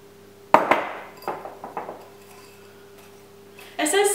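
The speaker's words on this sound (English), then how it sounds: "Let's grab another bowl." A mixing bowl is pulled out in a home kitchen, setting off a sharp clatter of dishes and a few lighter clinks that fade out, then another short rattle at the end.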